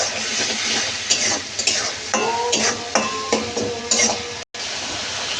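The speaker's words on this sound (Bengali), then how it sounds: "মশলাটা দিয়ে ভালো করে কষিয়ে নেবে।" Spices are stir-fried in a pan with tomato, a steady sizzle under repeated metallic scrapes and clinks of a spoon against the pan, close and fairly loud, with a short break near the end.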